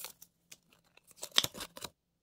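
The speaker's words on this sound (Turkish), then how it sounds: "Bir tane sana e-futbol kartı açıyorum." A pack of e-football trading cards is torn open up close, with a few faint crinkles and then a quick, louder burst of tearing and crumpling foil near the end.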